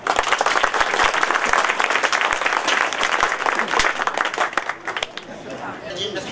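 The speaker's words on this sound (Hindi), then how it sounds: "आपकी भरपूर तालियां।" An audience at an oath-taking ceremony for a market traders' association president gives loud, full applause with mixed chatter, thinning slightly toward the end.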